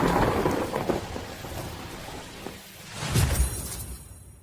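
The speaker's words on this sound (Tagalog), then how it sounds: "Mabilis, ulan ng malakas." Heavy rain pouring steadily, with low rolling rumbles of thunder swelling near the end and no voices.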